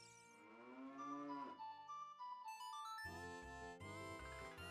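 A cow moos in the video game Zelda: Ocarina of Time, a synthesized game-style moo that swells and falls, followed by a short bright chime-like musical jingle, with no talk.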